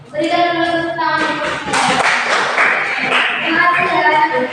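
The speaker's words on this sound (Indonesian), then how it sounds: "Berikan dulu tepuk tangan." Schoolchildren in a primary classroom clapping their hands together, a loud close burst of many claps in quick rhythm, with voices mixed in beneath.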